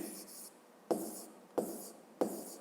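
Numbers being written on a board for a fifth-grade maths lesson, a few short scratchy strokes in quick groups with distinct taps at the start of each, close and fairly quiet.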